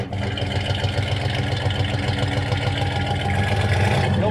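A 1975 Chevy K10 4x4 pickup with a 396 V8 and automatic transmission idles steadily and loudly up close, a continuous low rumble with no break.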